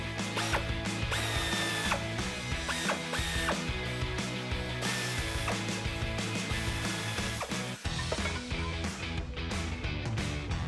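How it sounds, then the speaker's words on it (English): Ratcheting 15mm socket removing bolts from the frame of a 2007-2013 Chevrolet Silverado 1500, dense rapid mechanical clicking and whirring, steady and close, with a brief clunk near the end. "Grab your 15mm socket and go ahead and get them out."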